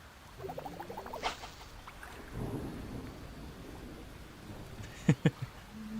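Rain falling with low thunder rumbles in the cozy farming game Fields of Mistria, a steady wash of rainfall under a soft rolling rumble, with a couple of sharp drip-like ticks near the end; no talking.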